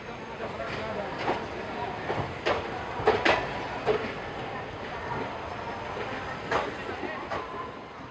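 A train pulls into Miraj Junction in India, sounding as a steady rolling rumble with intermittent clacks and metallic knocks from the wheels. Speech is also present in the clip.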